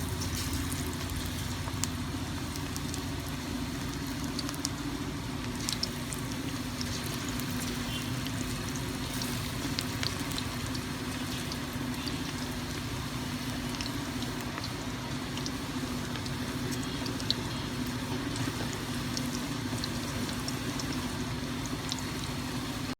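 Gram flour pakoras fry in hot oil for village-style kadhi pakora, giving a long, steady bubbling hiss sprinkled with small crackles and pops at a moderate, even level.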